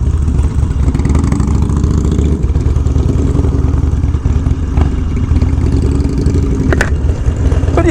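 A Harley-Davidson Dyna motorcycle, a Super Glide Sport or Low Rider S, runs with a steady, loud low rumble and loping exhaust pulse, a brief clank near the end.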